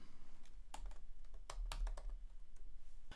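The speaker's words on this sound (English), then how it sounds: "And then we type London into the search box." Quick, soft key taps on a computer keyboard as a short word is typed into a search box, close and fairly quiet, in an irregular burst of clicks.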